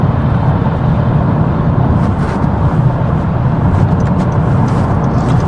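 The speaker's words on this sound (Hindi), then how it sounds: "आप गाड़ियों की रफ्तार भी देख सकते हैं" Steady, loud roar of cars speeding along the 91 Freeway East near Corona heading toward Los Angeles, a continuous close traffic rush with no pauses.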